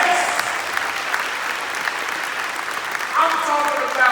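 Steady applause from an audience, a continuous wash of clapping that swells slightly louder near the end.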